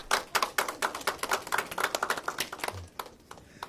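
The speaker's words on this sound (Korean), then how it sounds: "박수 한번 쳐주세요." An audience at a Korean political rally claps steadily, many hands producing a dense, lively patter of sharp claps that continues throughout without a voice on top.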